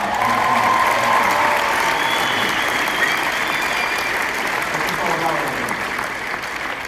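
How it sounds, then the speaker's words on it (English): A big round of applause from a conference audience, thick sustained clapping that stays loud throughout, with voices audible beneath it. "Let's give her a big round of applause."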